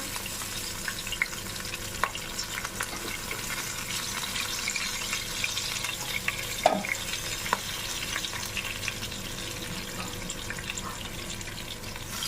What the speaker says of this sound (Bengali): কালো জিরে আর কাঁচা লঙ্কা আগে একটু দিয়ে দিলাম